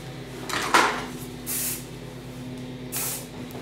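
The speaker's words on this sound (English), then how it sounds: "volume up hairspray, spray it on the section" A few short hissing sprays of volumizing hairspray onto a section of hair, spaced apart, with a faint clink of handling between them.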